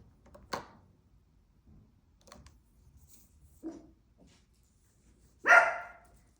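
Indoor dogs let out a few scattered barks, some short and sharp and one louder, longer bark near the end, all heard in an otherwise quiet room with faint background taps.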